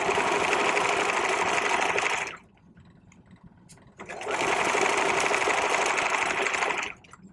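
A sewing machine runs close and loud in two steady bursts while backstitching a vest seam at 2.5 stitch length, with a brief near-silent pause between the runs.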